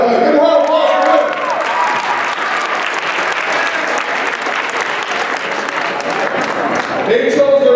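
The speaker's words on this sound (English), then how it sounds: "get a round of applause for them" A school assembly audience applauds loudly and steadily, dense clapping filling the whole stretch with a brief lull near the end, crowd noise mixed in.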